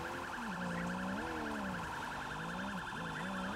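Wailing siren in the Sleeping Dogs: Year of the Snake video game, rising and falling in steady sweeps with a chirping, alarm-like warble layered over it, loud and continuous throughout.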